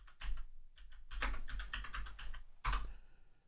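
Fingers type on a computer keyboard, a close run of quick irregular key clicks with a short pause and a sharper keystroke near the end, no talking.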